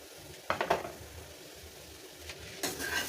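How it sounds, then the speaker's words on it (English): Onions and smoked sausages dropped into a hot cooking pan, a soft steady sizzle with a few clattering knocks as pieces land, fairly quiet and close. "Now we're gonna add our onions, and we're gonna add our sausages."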